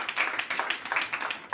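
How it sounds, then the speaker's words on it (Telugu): Scattered hand clapping from a congregation at a Christian worship gathering in Nellore district, a quick uneven burst of claps lasting under two seconds. "చప్పట్లు కొట్టాలి"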